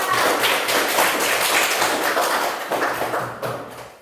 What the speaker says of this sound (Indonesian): Beri tepuk tangan yang meriah untuk kita semua